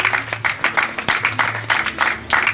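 A church congregation claps in rhythmic bursts during an evangelistic service, the applause loud, close and steady, with a low murmur of voices underneath.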